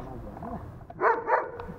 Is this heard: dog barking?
yes